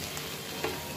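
Snake gourd (chichinga) fries in a pan with a close, continuous sizzle, and a brief stir or scrape comes partway through.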